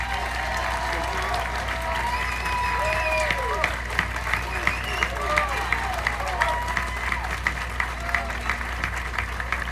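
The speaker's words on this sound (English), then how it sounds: "We have another applause for our band." A theater audience applauds a band at an evening performance, with dense, sustained clapping and crowd murmur filling the room, steady and fairly loud, while a voice speaks over it.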